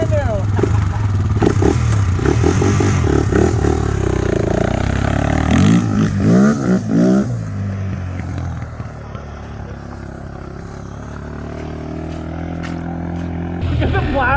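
A Honda 400ex ATV with a balky ignition, loose plastic body panels and bald tires revs loudly while being ridden, its engine note climbing and dropping in rough bursts with voices talking over it.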